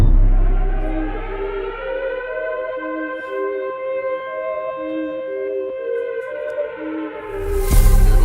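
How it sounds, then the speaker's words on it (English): About four wailing sirens sound together, long rising and falling tones overlapping steadily, loud and sustained, with a brief noisy burst at the end. "So it may have been that 4 sirens were going off perfectly."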